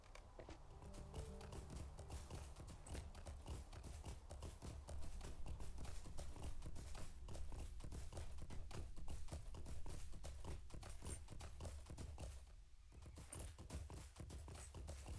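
Horse hooves from the game LOTRO clip-clop in a fast, even rhythm during riding, loud and continuous across the whole stretch with no voices over them.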